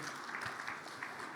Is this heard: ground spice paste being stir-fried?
no